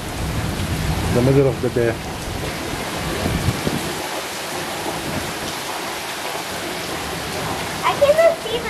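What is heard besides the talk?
heavy rain and wind in Silivri, Turkey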